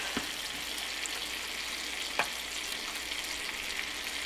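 Apples grilling on a barbecue give off a steady, moderately loud sizzle and fine crackle throughout, with a few small pops and one sharper tick partway through, with no talking.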